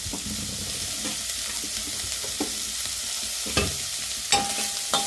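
Ingredients sizzle in a pan with a little turmeric while being stirred, a continuous close frying hiss. Occasional clinks and scrapes of a utensil against the pan break through the sizzle.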